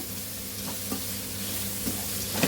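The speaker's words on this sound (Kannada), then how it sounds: "ಸ್ವಲ್ಪ ಕೊತ್ತಂಬರಿ ಸೊಪ್ಪು ಎಲ್ಲ ಎಣ್ಣೆಗೆ ಹಾಕಿ ಹುರಿತೀನಿ." Coriander leaves frying in oil for lemon rice give a soft, steady sizzle under occasional light scrapes of stirring, with no one speaking.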